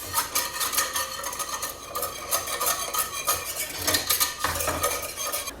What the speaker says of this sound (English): I'm going to use a whisk, and what I want to do is I want to scrape up all the bits and pieces from the bottom of the pan